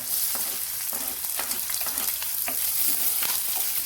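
Garlic sautéing in a pan for Filipino-style red beans, a continuous close sizzle with scattered crackles and stirring scrapes, loud and unbroken.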